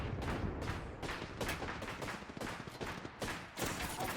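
Video game gunfire from a Warzone or Apex match, sustained bursts of rapid shots with repeated sharp cracks across the whole stretch, loud and close, with no talk over it.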